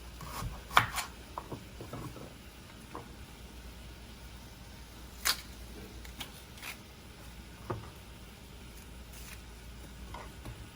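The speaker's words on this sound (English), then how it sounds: "I'm going to go ahead and cut the onion" Sharp knife cuts through an onion on a cutting board in a home kitchen, a few scattered crisp chops and taps at an irregular pace, fairly quiet against a low background hiss.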